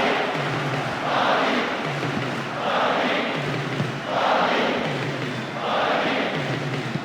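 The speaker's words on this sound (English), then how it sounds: "Rhythm of this game appreciated by the crowd. The noise level has never been anything other than incessant." Stadium crowd noise from the football video game PES 2009, a steady roar that swells and fades in regular waves like rhythmic chanting, loud and continuous with no talk over it.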